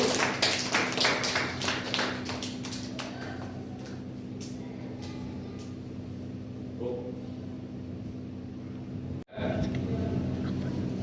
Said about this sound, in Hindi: बहुत बढ़िया, तालियां बजाओ इसके लिए।